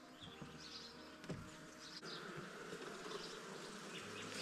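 Dense, steady buzzing of honeybees around an open hive during a colony inspection, a continuous close swarm drone filling the whole stretch with no talk.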